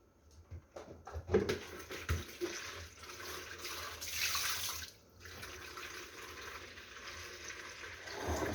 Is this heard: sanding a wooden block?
no